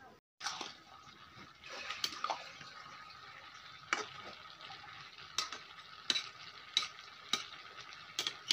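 Chopped ash gourd (chal kumra) frying in hot oil in a pan, a quiet steady sizzle broken by repeated sharp scrapes and clinks of a spatula stirring every second or so, close by.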